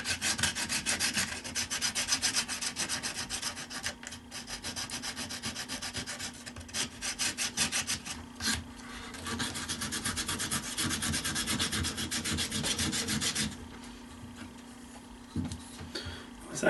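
Sandpaper rubs over a wooden tree root in continuous rapid strokes, close and steady, easing slightly softer near the end.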